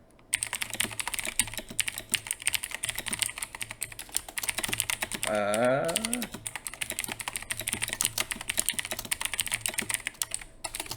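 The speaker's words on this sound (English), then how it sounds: "I'm just typing." Rapid clicking of keys on a computer keyboard, steady and close, with a brief voice-like tone briefly rising in the middle.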